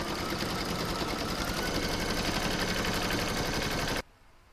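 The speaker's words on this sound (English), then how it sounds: "I'm now going to pop that in my machine and stitch round number 8 to secure it." An embroidery machine stitches an in-the-hoop oven mitt, a loud, steady, rapid mechanical chatter running continuously for about four seconds before cutting off abruptly into quiet room tone.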